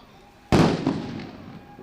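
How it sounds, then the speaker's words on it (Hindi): A single loud explosion, set off as a distraction during a commando window-entry drill, booms suddenly and then rumbles away over a second or so, with a faint second crack just after. "विंडो एंट्री की तैयारी से आतंकियों का ध्यान भटकाने के लिए जोरदार धमाके"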